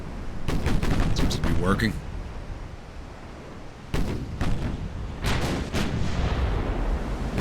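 Warship guns firing in the naval battle game Ultimate Admiral: Dreadnoughts, set in an 1890 war between Italy and France: a rolling salvo of heavy booms, then further separate blasts over a rumbling sea backdrop, with a short spoken remark between them.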